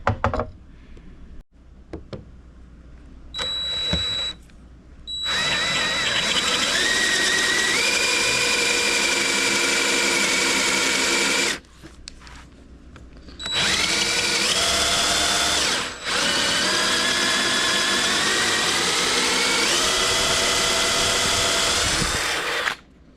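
Power drill boring a hole with a bit into metal while checking depth on a jack, running in several long loud bursts with brief pauses and changes in pitch as the motor speeds up and slows.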